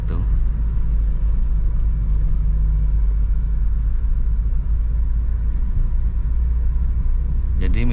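A manual car creeps through a housing estate in first gear, giving a loud, constant low engine rumble with road noise throughout and a voice talking over it.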